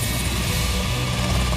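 A Kamov 226P helicopter drones steadily with a dense, continuous rotor and engine roar, loud and unbroken throughout.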